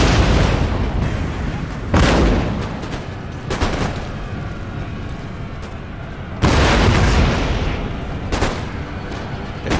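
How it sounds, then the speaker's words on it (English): Demi cannon artillery in the Empire: Total War video game fires a few heavy booms, with two big blasts several seconds apart and lighter shots between them, over a continuous rumble of battle. "There's that demi cannon squad."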